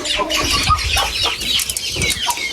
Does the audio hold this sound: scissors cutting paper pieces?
no